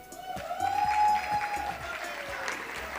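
Audience applause for a speaker being introduced at a corporate ethics talk, a steady dense clapping that swells midway and holds for the full three seconds, fairly close, with no talking over it.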